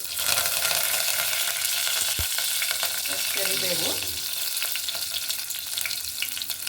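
Curry leaves dropped into hot oil with cumin seeds in a pan while cooking brinjal curry, a loud continuous crackling sizzle with a brief stirring clink partway through.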